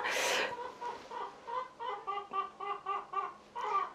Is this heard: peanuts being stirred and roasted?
no